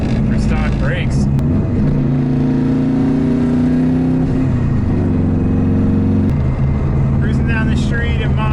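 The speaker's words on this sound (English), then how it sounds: "Cruising down the street in my GC," A WRX-swapped Subaru Impreza GC8 drives along a street, its engine droning loudly from inside the car and stepping up in pitch through gear changes, while someone talks over it.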